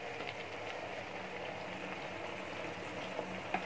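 Beef pieces for qorma sizzle and bubble in a pot while browning, a steady, fairly quiet crackling hiss with a few small pops near the end and no talking.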